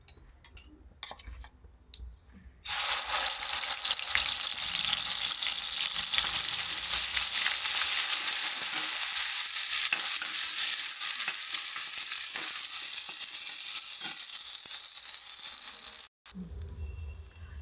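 Masala spices hit hot oil in a pan for a quick Marathi vegetable dish, bursting into a loud, steady, close sizzle that holds for about thirteen seconds after a few soft handling knocks, then cuts off abruptly.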